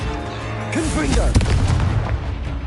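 Confringo explosive spell in the video game Hogwarts Legacy, a loud booming blast with a crackling rumble, heard together with a shouted voice.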